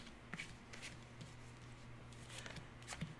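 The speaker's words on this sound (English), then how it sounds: "you want to deal these cards into four piles" Playing cards are dealt into four piles on a table, soft quick flicks and slides repeating in a loose rhythm, close and quiet.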